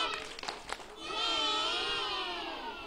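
Kindergarten children do the 'tepuk ojek' clapping game, with a few sharp claps at the start followed by high voices chanting together in a lively group.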